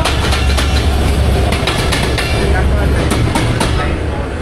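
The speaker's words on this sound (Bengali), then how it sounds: "4:37-এ আমাদের ট্রেন ছাড়লো পার্বতীপুর জাংশন থেকে" A train leaving Parbatipur Junction, heard from inside a non-AC sleeper cabin: loud, steady rumble with a regular clickety-clack of wheels over rail joints and faint voices mixed in.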